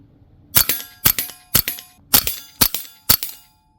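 Karma SLS air gun firing six semi-auto shots in quick succession, sharp loud cracks with metallic ring, evenly spaced about half a second apart, then silence.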